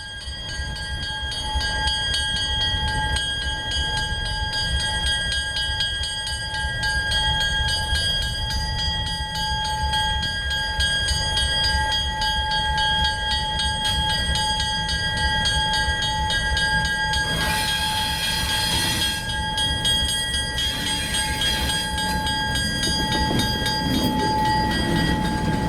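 Museum train running at the Alberta Central Railway Museum, a steady loud rumble of wheels and carriage noise with a constant high whine, brightened by a couple of hissing or squealing bursts late on.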